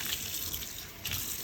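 Water running steadily from a bathroom sink tap during cleaning, a soft continuous splashing stream heard close and alone.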